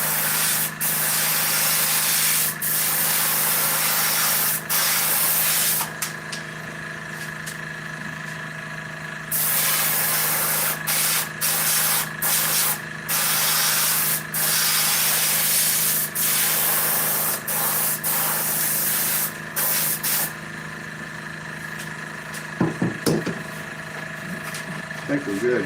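A power sander runs close and loud for long continuous stretches, broken by short stops and restarts, with a steady whirring hiss over a low motor drone.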